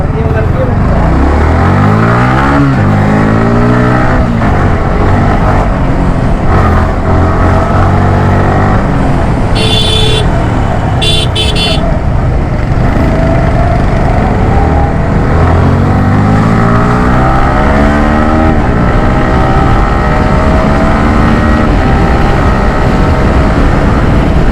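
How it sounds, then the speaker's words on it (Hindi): A motorcycle being ridden through blocked traffic, engine note rising and falling steadily as quickshifter gear changes come through, loud and close throughout with someone talking over it. "इस बाइक का क्विक शिफ्ट करना अभी भी भाई इतना स्मूथ है।"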